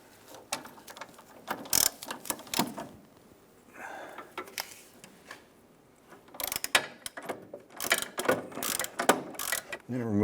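An 18mm socket on a ratchet with a swivel head and extension works the engine mount through bolt of a 1999–2004 Jeep Grand Cherokee 4.7L V8, giving bursts of quick metallic clicks in uneven spurts, with quieter rustling and clanks between them.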